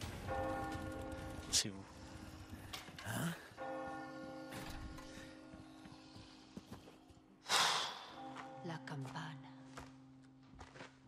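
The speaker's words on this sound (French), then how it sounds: "les cloches" Church bells ring out in the video game Resident Evil 4 Remake, sustained tolling tones that carry across the whole stretch, with people talking over them in several bursts.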